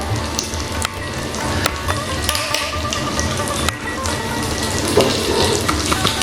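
Whole cumin seeds, a dried chilli and a bay leaf fry in hot oil over a low flame, a steady close sizzle with occasional sharp crackles and light stirring clicks.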